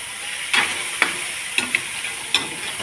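Crabs seasoned with salt sizzle steadily in a pan while being stirred, with a few sharp clacks of the shells and utensil scraping at intervals over the constant frying hiss.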